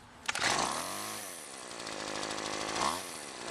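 A Weedeater Featherlite FL20 string trimmer's small two-stroke engine catches and runs, its buzzing whine rising and falling in pitch as it revs, close and fairly loud, with a sharp click at the start and no talking.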